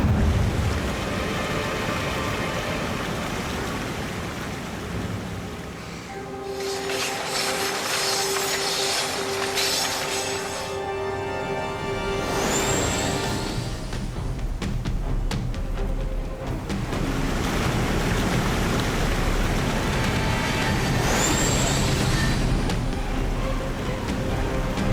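A train rumbles steadily and loudly throughout, with rushing, wave-like roar and metallic squeals near 12 and 21 seconds, and a brief tonal whistle midway.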